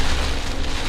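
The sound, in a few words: rain falling outside a Jeep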